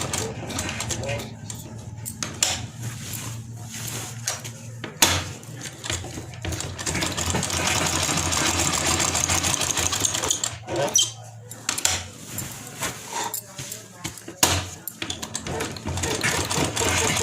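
A sewing machine stitches a kurti along printed marking lines, turning around curves as it goes, in a close rapid mechanical chatter with short stops. Someone talks over parts of it.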